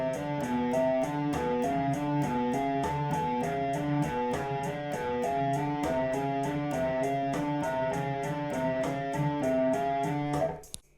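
Fast alternate-picked electric guitar runs through a four-note finger-pattern exercise, an even stream of rapid, evenly spaced notes with a steady rhythm, close and loud, for about ten seconds before stopping abruptly.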